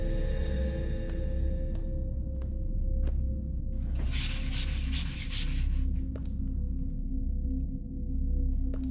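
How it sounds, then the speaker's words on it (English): A squeegee dragging across an apartment surface, a steady rubbing scrape over a low constant rumble, with a brighter, louder swipe in the middle and a few sharp clicks. "Let's get the squeegee."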